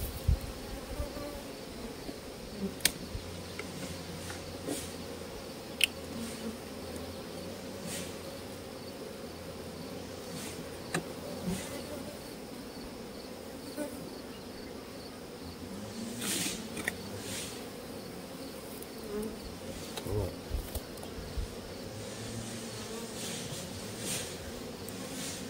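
Honey bees buzz steadily around an opened double hive, a dense continuous drone that fills the whole stretch with no talking.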